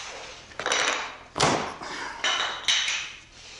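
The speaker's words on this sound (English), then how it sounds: "let's see what it takes to snap these tabs off" Wooden tabs held with CA glue being snapped off a tenon panel door workpiece: three or four sharp cracking snaps, close and fairly loud, with the strongest break in the middle and quieter pops on either side.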